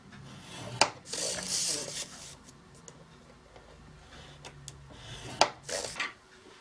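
Paper being scored at half-inch intervals along a 4 3/4 inch edge for a mini album: short scraping strokes and sharp taps of the scoring tool, several separate passes close by, fairly quiet.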